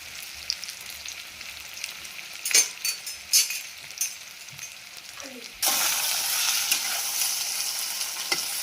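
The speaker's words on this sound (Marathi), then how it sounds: "परतवून घेतोय कांदा लसूण राय आणि बटाटे टाकले" Onion, garlic, mustard seeds and potatoes being stir-fried in a village home kitchen: scattered clinks and stirring scrapes at first, then a loud steady sizzle that sets in suddenly about two-thirds through and continues to the end.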